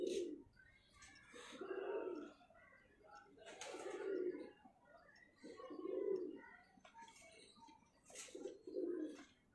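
Pigeon cooing from a racing pigeon loft, soft repeated low coos in short bursts at a steady rhythm, fairly quiet, with faint voices in the background.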